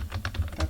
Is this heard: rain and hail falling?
no